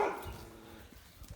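A dog gives a short bark at the start, followed by faint yelps and scuffling outdoors.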